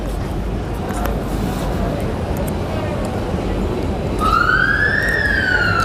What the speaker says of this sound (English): The gentle sound of a siren.